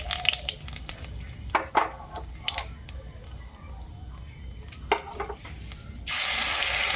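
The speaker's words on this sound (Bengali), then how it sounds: "সামান্য কালো জিরে দিয়ে দিলাম" Nigella seeds crackle in hot mustard oil with sparse pops and clinks, then a sudden bright, loud sizzle rises in the last second as the seeds hit the oil; no speech.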